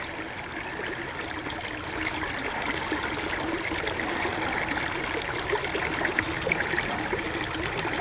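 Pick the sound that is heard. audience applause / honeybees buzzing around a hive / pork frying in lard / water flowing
water flowing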